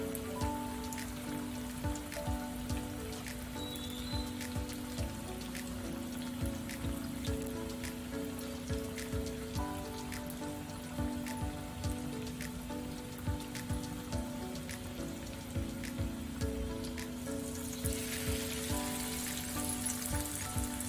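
Banana chocolate rolls fry in oil over a low gas flame, giving a dense, steady crackle and patter like rain that continues for the whole stretch at a moderate level.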